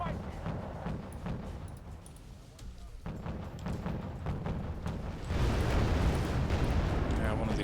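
A Sovremenny destroyer launches missiles in the strategy game Wargame Red Dragon, a continuous rumble of booms and blasts that swells louder near the end.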